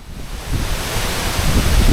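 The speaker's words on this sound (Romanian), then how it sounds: "Asta da cascadă" Roaring waterfall in Norway, a dense, steady broadband rush building slightly louder, heard alone and close with no talking.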